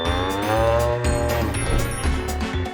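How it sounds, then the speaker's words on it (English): A cow moos in a long, loud, drawn-out call, close and clear with no talking, set among farm animals. "This animal is a cow."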